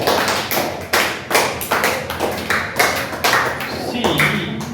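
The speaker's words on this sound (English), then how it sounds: "Claps for Kartikeya" Students in an English class clap for a classmate, a burst of quick, close hand claps forming a lively ragged rhythm that fades into a teacher talking.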